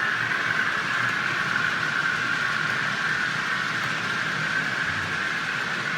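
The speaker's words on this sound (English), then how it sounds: "We've got some trains running today." Model railway trains, including freight and an EMU, run on a layout with a continuous steady rolling hum and a high whirring tone, no voices over it.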